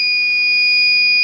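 A battery load tester's steady, piercing electronic alarm tone holds continuously at close range during a load test on a 2014 Jeep Grand Cherokee 5.7 Hemi, shrill and unbroken, with no talking.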